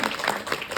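Audience applause at a concert in Warsaw, a dense steady wash of many hands clapping at moderate loudness throughout.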